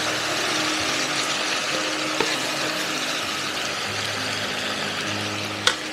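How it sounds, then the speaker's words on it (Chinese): Pork ribs sizzle steadily in a hot clay pot, a dense continuous crackle with a couple of sharp clinks over it and no voices. "有没有呲啦的声音？"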